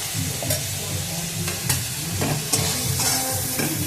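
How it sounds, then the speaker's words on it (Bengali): Spice paste with turmeric and chili paste frying in oil for a Bengali banana flower dish, a loud, steady close sizzle broken by rhythmic stirring scrapes every second or so, no voices. "মশলাটাকে কষাতে হবে যতক্ষণ না তেল ছাড়ছে"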